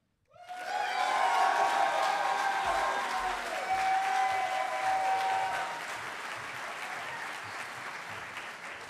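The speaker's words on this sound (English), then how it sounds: "this is a perfect time for you to applaud for not only your candidate, but all the candidates" Applause from an audience at a debate on the Connecticut economy greets the candidates, swelling quickly from silence into loud, sustained clapping with faint cheering, then thinning a little toward the end.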